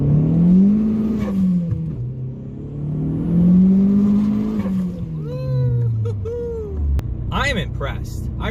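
A car on Toyo Proxes R888R tires launches hard, the engine revving and rising through gears with a rumbling tone, followed by higher squeals and clatter near the end while a person talks over it.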